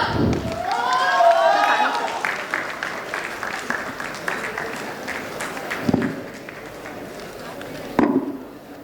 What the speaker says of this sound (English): put a round of applause for the Ronaldo fan